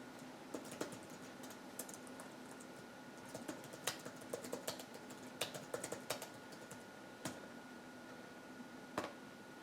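Typing a password on an early 2006 MacBook keyboard: scattered, light clicking keystrokes in irregular bursts, close but quiet, over a steady low hum, with no speech.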